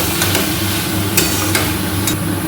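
Spices and peas for ghugni are stir-fried in a pan, giving a constant crackling sizzle. A few brief scraping knocks from the spatula break in at irregular moments, close and fairly loud.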